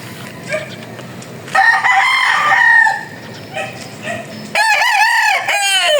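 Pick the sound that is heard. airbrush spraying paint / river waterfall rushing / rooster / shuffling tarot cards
rooster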